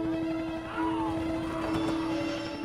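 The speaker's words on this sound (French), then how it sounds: "Les hélicoptères arrivent." Military helicopters approach a hilltop near the Laos border during the Vietnam War, with a steady droning rotor and engine hum that rises slightly in loudness, heard alone without voices.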